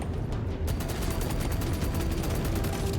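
Continuous weapon fire in the video game Deep Rock Galactic Survivors, a dense, steady stream of rapid shots with no pauses, mid-loud throughout.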